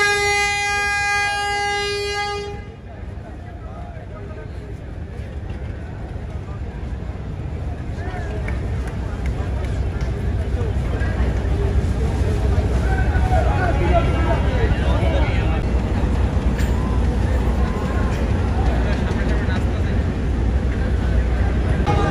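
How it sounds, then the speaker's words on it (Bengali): The river passenger launch Shubhraj 9 sounds a loud, sustained horn blast as it reverses away from the Barishal ghat, then a heavy engine rumble and ambient crowd noise fill the rest. "এটা 19 মিনিটে শুভরাজ 9 ব্যাক গিয়ার দিল"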